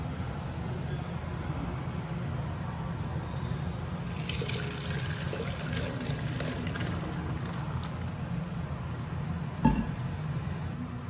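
Rasam pours and splashes from a pot into a vessel, a steady close pouring sound with faint clinks, over a low background hum.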